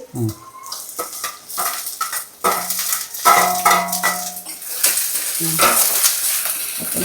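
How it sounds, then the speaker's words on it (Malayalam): Ginger, garlic and onions are stirred in a hot cooking pan, with a loud close sizzle and clattering scrapes of the spoon against the pan as a voice speaks briefly over the frying. "ഇളക്കി കൊടുക്കാം"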